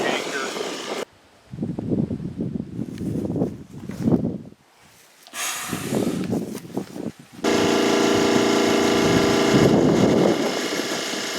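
A 1965 Chevy pickup, a barn find, runs in choppy bursts amid voices and wind noise, then settles into a steady, loud idle for the final few seconds.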